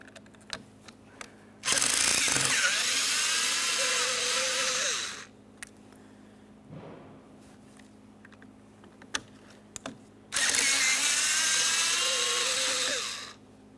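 Two long bursts of a power driver whirring close by remove T25 Torx screws from a 2012-2015 Honda Civic window regulator motor, with small clicks and handling noises between them.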